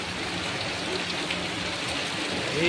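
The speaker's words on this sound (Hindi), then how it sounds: "देखिए अभी पूरा ज़ोरदार बारिश हो रहा है।" Heavy rain pouring down at Satwara Mod in Bihar, India, heard from a shop as a dense, loud, continuous hiss of drops hitting surfaces, with a brief spoken word near the start.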